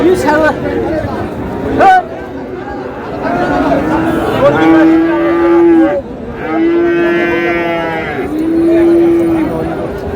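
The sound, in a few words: bull calves mooing at a cattle market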